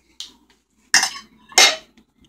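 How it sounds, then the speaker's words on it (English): Metal cutlery clinks three times at a kitchen table where a chicken thigh dinner for two has just been plated: one light tap, then two louder, close rattling clatters a half second apart, with no talking. "Get our silverware here."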